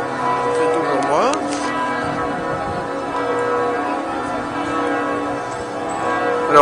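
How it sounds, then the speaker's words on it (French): Bells of Lille cathedral ring with sustained, overlapping tones that hum and resonate steadily at a moderate distance, their long decays blending into a continuous metallic wash, with faint background sounds underneath. "Alors ici on peut entendre les cloches."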